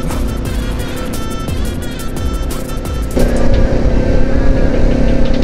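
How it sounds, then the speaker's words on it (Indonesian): On a road in Yogyakarta, a motorcycle with a loud aftermarket open exhaust roars close by, a dense and continuous engine rasp that grows louder partway through. "Masih pakai knalpot brong"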